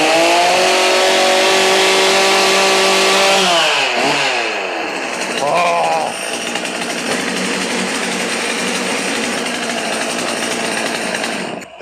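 A 1980s Husqvarna 50 Rancher two-stroke chainsaw, unused for years, revs loudly close by, dips and sputters, then settles into a steady buzzing idle that continues without pause.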